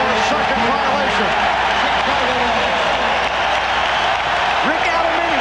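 A packed basketball arena crowd at the 1992 NBA Finals between the Chicago Bulls and Portland Trail Blazers roars steadily and loudly, with a commentator talking over the constant cheering and applause.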